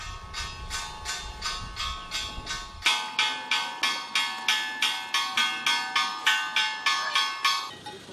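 A farm bell rung to call pigs to feeding on a Pantanal farm in South America: after a low rumbling start, regular loud metallic clangs ring out in quick steady succession, close and clear.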